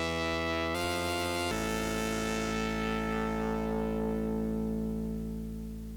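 A Moog DFAM analog drum synthesizer rings out with sustained, tonal synth sounds that shift partway through and then decay slowly, played alone and fairly loud with no talking.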